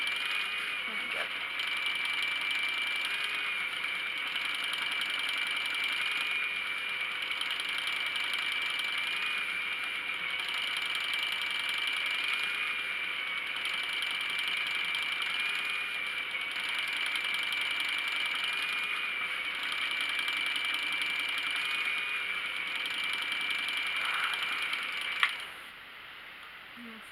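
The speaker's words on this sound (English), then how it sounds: "most bobbins may have some rattle in it as you fill it up" Spinning wheel bobbin rattling as yarn is plied onto it, a steady whirring with a high persistent rattle that runs evenly, ending in a sharp click near the end.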